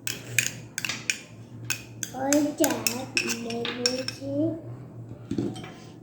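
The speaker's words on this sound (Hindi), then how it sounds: "तो यहाँ पे हम तैयार कर लेते हैं सॉस, मिक्स कर लेते हैं सारी चीज़ें।" Metal utensil clinking and scraping against a cup while mayonnaise sauce is mixed, a run of sharp taps and clinks with a voice talking through the middle stretch.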